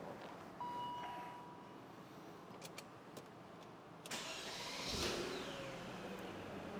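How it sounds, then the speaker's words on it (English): A BMW 540i E39 engine fitted with a new starter cranks in one quick burst and catches. The running engine then settles into a low, steady hum, heard from nearby against a quiet background. "That's a different sounding starter. I felt like it started really fast, or it spun really fast."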